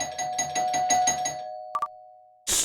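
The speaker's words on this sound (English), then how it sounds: "Doorbell. Again? This late?" A video game doorbell chimes in a clear two-note ring, close and alone after a buzzing tone fades, followed by a sharp burst of noise.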